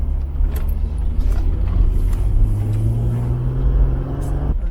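A car driving through the small Colombian town of Santa Rosa de Cabal, heard from inside as a loud, steady low engine rumble and road noise with a slowly rising tone as it accelerates.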